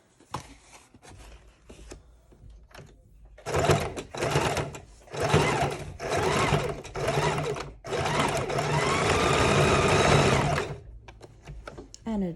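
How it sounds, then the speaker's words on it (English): A sewing machine stitching an envelope onto the edge of a junk journal page, running in several loud close bursts of rapid needle chatter, then one longer steady run, with quieter handling noises and brief talk in the gaps. "I'm going to sew it down on that page, just on the edge"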